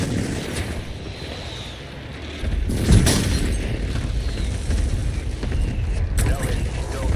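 A deep boom from an airstrike in a video game lands partway through and gives way to a sustained low rumble with distant blasts, loud and close, heard amid game ambience.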